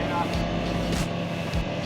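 A Honda Pioneer 500 side-by-side fitted with a speed gear mod drives over gravel, its engine droning steadily and close with a continuous rumble and crunch throughout.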